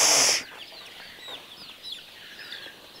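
Chickens at a poultry breeding and hatching farm give soft, scattered clucks and cheeps after a brief loud burst at the start, faint and somewhat distant, with no speech.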